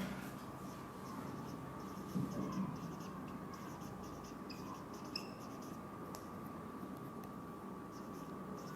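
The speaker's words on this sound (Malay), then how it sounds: "cikgu tulis kat sini ya" Marker or chalk scratching across a classroom board in a secondary-school science lesson, a steady faint writing scrape over a constant electrical hum, with no voices.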